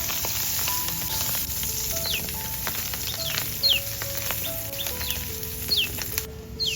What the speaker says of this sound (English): I added the chopped mushrooms and sauteed them until lightly golden